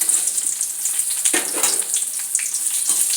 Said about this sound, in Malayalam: നല്ലെണ്ണയ്ക്കകത്ത് മുളകൊക്കെ വറുത്ത് കോരിയെടുക്കണം.